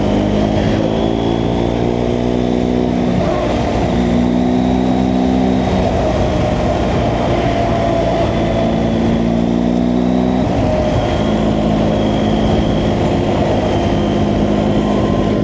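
A car engine pulls hard and revs up through the gears while driving on a road, a loud, continuous drone with rising pitch sweeps and a shift break.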